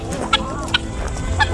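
Hens clucking inside a backyard hen house, short scattered clucks and calls over a busy, close ambient bed of shuffling birds, with no talk.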